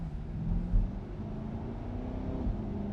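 A 2020 Chevrolet Corvette C8 with a dual-clutch transmission drones steadily from inside the cabin on a test drive, its engine note dipping and rising briefly as it shifts. The low rumble is moderately loud and continuous.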